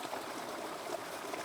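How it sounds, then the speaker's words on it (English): A creek running through a rural homestead property gives a steady, close trickling and babbling flow, even and unbroken over a brief moment with no voices. "So this is the creek that runs through our property"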